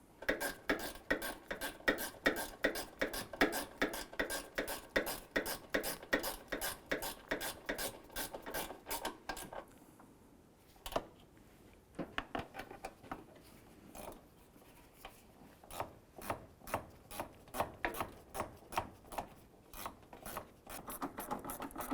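Bolts are snugged down with a ratchet while a windshield washer pump is installed on a 2004-2008 Chevrolet Colorado, giving rapid, rhythmic clicking bursts up close, a short pause, then more quick ratcheting strokes.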